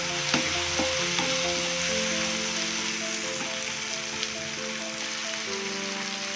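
Tomatoes frying in a pan for a cucumber and dry prawns curry, a steady, fairly quiet sizzle with occasional stirring clicks and no talking.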